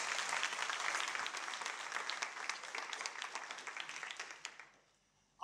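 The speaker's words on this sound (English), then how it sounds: "Can we please give the Apartheid Museum another round of applause for putting on this event?" An audience at a debate event at the Apartheid Museum on Freedom Day applauds, sustained dense clapping for about four seconds that fades out, then a brief voice.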